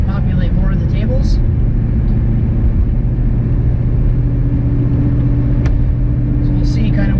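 A Cadillac Escalade fitted with a turbocharged LS engine accelerates toward highway speed, its steady engine drone and road rumble heard from inside the cabin, with someone talking over it.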